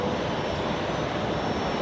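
A USAF C-17 aircraft departs Brisbane Airport with a loud, continuous, broadband jet roar that stays steady for the whole short stretch.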